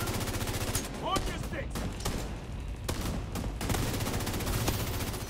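Shotgun blasts and other gunfire in The Division 2 crack repeatedly through a busy firefight, irregular sharp reports scattered over several seconds on top of steady game noise, with a voice talking at times.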